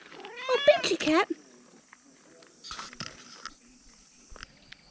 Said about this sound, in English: Benji cat.